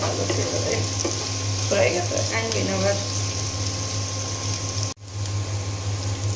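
Steady sizzling of marinated beef frying in hot oil with fried onions fills the clip, with a low hum beneath, a few brief voice sounds, and a momentary cut.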